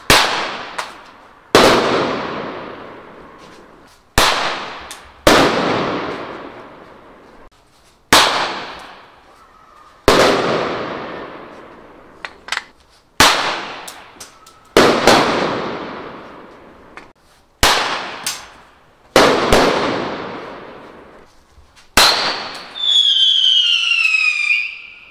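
A run of 15mm blank cartridges and bird-scare rounds fired one after another, about a dozen loud sharp bangs with decaying tails and a shrill whistling round at the end, no voices.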